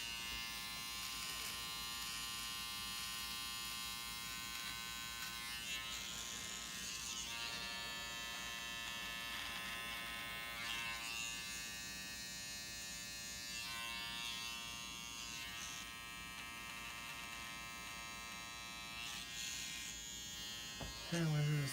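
Electric beard trimmer buzzing steadily as it is pushed along a beard line, a close continuous hum with slight shifts in pitch as it moves, heard alone without speech.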